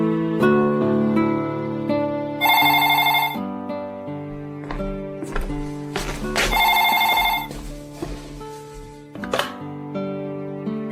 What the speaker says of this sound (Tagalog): nagulat na lamang ako nung siya na mismo ang tumawag sa akin, Papa Dudut.